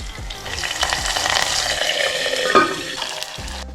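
Green chillies and fenugreek leaves fry in a pot with a loud, continuous crackling sizzle and occasional low stirring knocks, close by and without talk.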